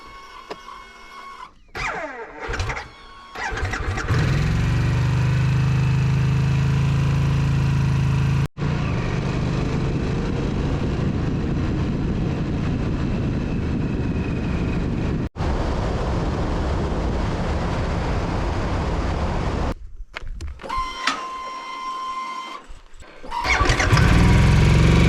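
A Harley-Davidson Pan America motorcycle, whose revs shoot up when coming to a stop, starts after some handling noise, idles loudly and steadily for about fifteen seconds, cuts out, then fires up again.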